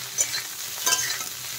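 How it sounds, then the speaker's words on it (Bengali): Boiled cauliflower is stirred and fried in mustard oil in a wok: a steady sizzle with a couple of scraping stirs of a spatula, heard close and with no speech. "এখন ফুলকপিগুলো একটু নেড়ে কেড়ে আমি ভেজে নেব ভালো করে।"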